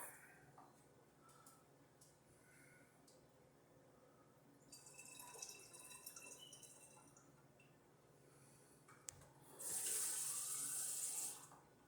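Water runs from a tap into a strawberry wine mixture, a steady trickle and splashing that swells into a brief louder rush of filling near the end, quiet and close.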